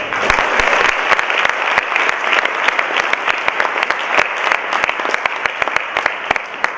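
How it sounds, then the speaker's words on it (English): A live audience at a Dr. Ruth question-and-answer session breaks into sustained applause, dense clapping from many hands with sharp individual claps standing out, steady and fairly close throughout. "everybody applaud her for asking the question"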